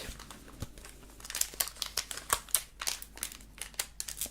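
Pokémon booster card packs torn open by hand, the foil wrappers crinkling and crackling in close, irregular bursts with sharp tearing snaps throughout.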